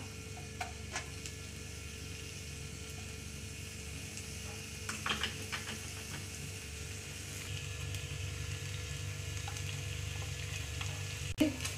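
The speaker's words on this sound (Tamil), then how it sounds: "இதை நல்லா நம்ம கொஞ்சம் கிண்டி கொடுத்துக்கலாம்" Ground cauliflower fries in a pan with a steady, low sizzle while a utensil stirs it now and then, giving occasional soft scrapes and clicks near the middle and end of the clip.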